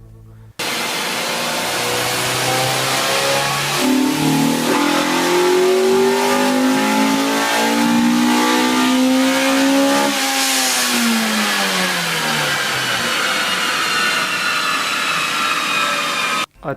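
A 1988 Honda CRX DX fitted with a tuned Type R B16B engine runs close and loud, revving so the engine note climbs steadily, holds high, then sweeps back down toward idle.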